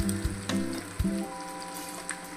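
Green chili thecha sautéing in oil sizzles up close, with a few sharp clatters from a spoon stirring the pan and no voices.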